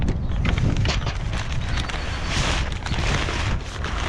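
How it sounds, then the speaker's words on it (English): Strong wind roars across the microphone outdoors, a loud continuous rush with gusty swells, loose plastic sheeting rustling and flapping somewhere beneath it. "Once this plastic gets pulled up from the wind, it will turn it to shreds."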